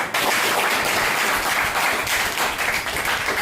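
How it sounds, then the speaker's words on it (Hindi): Students in a class clap for themselves in steady, dense applause that fills the room from start to finish, loud and close. "आप खुद के लिए एक बार ताली बजा दो।"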